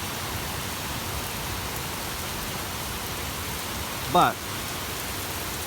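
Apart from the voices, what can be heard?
torrential downpour of rain flooding a front yard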